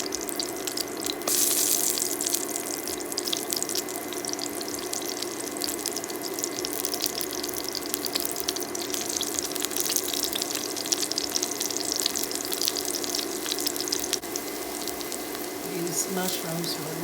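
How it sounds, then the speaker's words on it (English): Mushrooms rinsed under running tap water and rubbed clean in a kitchen sink, a continuous steady hiss of flowing water with faint handling noises throughout, close and moderately loud. "Just rinse them off and just rubbing the debris off of the mushrooms."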